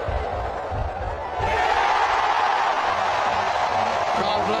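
Cricket crowd at a West Indies versus New Zealand super over, a steady broadband roar that swells louder about a second and a half in and stays loud, distant and continuous.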